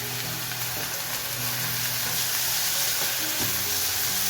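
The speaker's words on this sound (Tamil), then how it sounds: "நல்லா வதக்கணும்" Tomatoes fry with a continuous close sizzle in a pan for fenugreek vendhaya curry, punctuated by occasional stirring knocks and scrapes.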